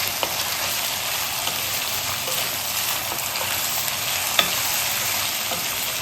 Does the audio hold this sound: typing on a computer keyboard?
no